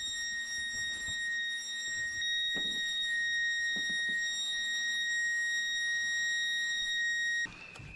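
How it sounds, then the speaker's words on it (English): A building alarm sounds continuously as a high, steady electronic tone with harmonics that holds for about seven seconds and then cuts off abruptly, with faint shuffling and movement sounds underneath during a protest inside a weapons facility. "Someone finally got the alarm off."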